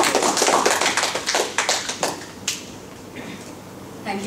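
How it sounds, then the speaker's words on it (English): Audience applause and scattered clapping for a performer at an interview mime event, loud and dense at first, then thinning into a few isolated claps toward the end. "A big round of applause for Mr."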